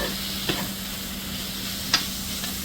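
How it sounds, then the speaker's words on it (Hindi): Minced meat frying in a pan, a steady loud sizzle with a couple of short scrapes as it is stirred and pressed down, close and with no talking. "और कीमे को जो है चलाते रहिए और ऐसे दबाते रहिए।"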